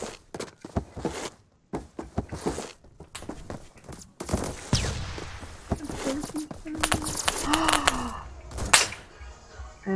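Rapid gunfire from a SCAR-H battle rifle in Roblox Phantom Forces, sharp bursts of shots mixed with clattering game effects, footsteps and whooshes, with a voice talking over it at times.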